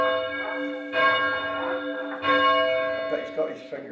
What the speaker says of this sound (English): the bells at Chideock, Dave Symonds, is keen to give the bells their first test